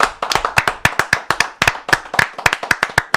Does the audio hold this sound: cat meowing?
no